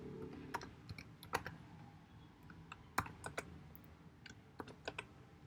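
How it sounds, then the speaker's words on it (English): Keys on a computer keyboard are typed in quiet bursts of soft clicks with short pauses between them, close but faint, with no talking. "now we are going to be typing the access specifier"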